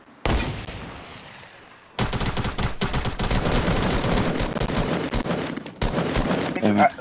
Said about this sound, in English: I think that's who we heard the shots from.